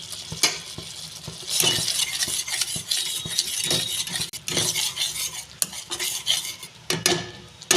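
A spice masala for an egg curry gravy is stir-fried in a pan, with repeated scraping and clinking strokes of a spatula over a soft sizzle, close and steady, with no one speaking.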